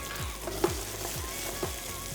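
Half-cooked meat and added garlic sizzle steadily in oil over low-to-medium heat, a close, continuous frying hiss broken by a few soft stirring taps.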